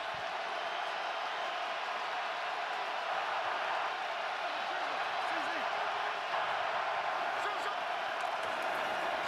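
Steady roar of a stadium crowd at an NFL wild-card playoff game, a dense wash of noise without a break, with a commentator talking over it.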